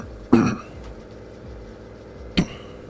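A person coughs twice during a State of Decay 2 session, with one harsh, fairly loud burst near the start and a shorter cough about two seconds later, over quiet game background.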